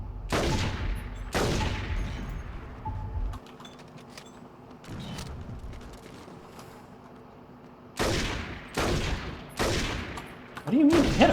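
Bursts of gunfire from mimes in the video game Saints Row 2, with several loud volleys close together, then a quieter stretch of scattered shots before more heavy bursts return.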